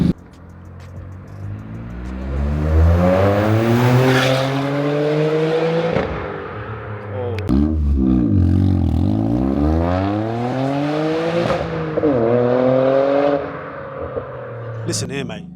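A Toyota GR Yaris with a stage 1 remap, sports cat downpipe and full turbo-back valved exhaust revs hard in repeated rising and falling sweeps, loud and close, with brief pauses and a sharp pop near the end.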